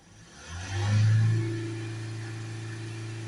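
A Ford Transit Custom diesel engine with a failed DPF revs up under acceleration, rising to a loud, steady drone that holds a high idle hum, close by with no talk.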